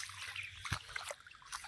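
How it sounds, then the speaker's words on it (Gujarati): Rainwater trickling and flowing along the ground in a village during heavy rain, a faint low splashing dribble with small splatters, quiet and close. "ખાલી જેવું પાણી જાય છે વરસાદનું"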